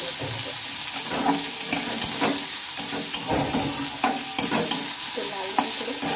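Finely chopped onions sizzle in hot oil in a pan while a spoon stirs them, a steady frying hiss punctuated by repeated scraping strokes at close range.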